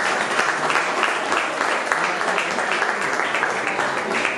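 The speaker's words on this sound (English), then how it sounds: "Another round of applause." Loud, close applause from an audience at an opening night event in Illinois, a thick continuous patter of many hands with some indistinct crowd voices blended in, holding strong throughout.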